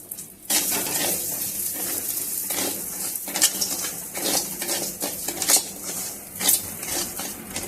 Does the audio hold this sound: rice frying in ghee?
yes